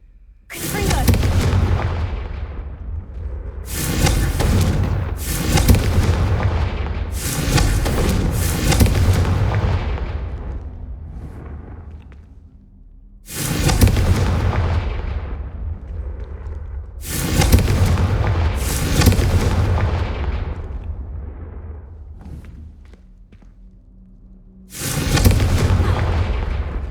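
Repeated Confringo fire-spell blasts in Hogwarts Legacy, a string of loud booming explosions with rumbling tails, bursting in clusters and separated by short lulls.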